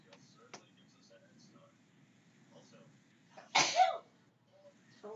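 One sharp sneeze bursts out abruptly, loud and close, standing out against quiet background murmur, with a faint brief sound just before it.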